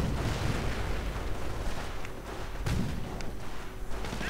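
Tank and gunfire in a World War II strategy video game, a Sherman tank trading fire with a German anti-tank half-track, heard as a dense, continuous rumble of distant explosions and shots with a few sharper pops.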